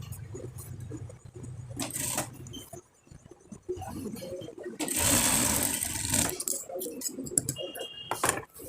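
A sewing machine runs in bursts as it stitches the side seams of a fotua garment with a half placket at the chest, with a louder sustained whir in the middle and clicks and handling noises between runs.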